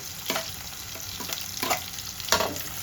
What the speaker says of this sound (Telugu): ఉల్లిపాయ పచ్చిమిర్చి వేసుకున్నాక చక్కగా వేపుకున్నామండి వేగాలి